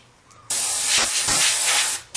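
An airbrush loaded with black paint sprays in a loud, close, continuous hiss, starting abruptly and holding steady for about one and a half seconds before cutting off.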